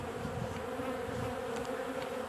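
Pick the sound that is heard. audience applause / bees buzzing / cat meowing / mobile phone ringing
bees buzzing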